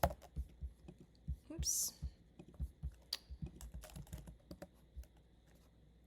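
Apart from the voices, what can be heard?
typing on a computer keyboard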